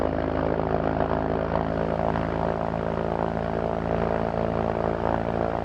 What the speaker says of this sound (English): As you can tell, the Jabiru is very smooth, 6-cylinder.